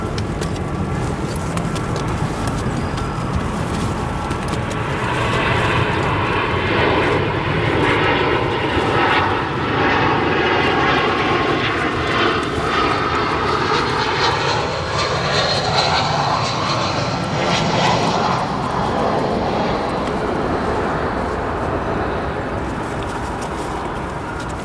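A United Airbus A319 lands at O'Hare, its jet engines roaring loud and steady, with a sweeping tonal whine that rises and falls as the airliner passes and touches down.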